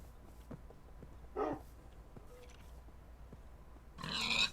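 Pig grunts from a Minecraft pig, two short bursts a few seconds apart, the second louder and longer, against a quiet game background.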